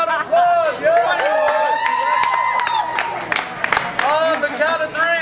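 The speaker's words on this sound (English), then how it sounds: "Let's get a round of applause!" An audience at a 21st birthday gathering breaks into loud applause, cheering and whoops, with dense clapping and excited voices carrying on throughout.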